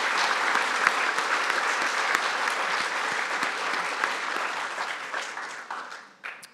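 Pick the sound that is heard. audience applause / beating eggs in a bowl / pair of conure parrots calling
audience applause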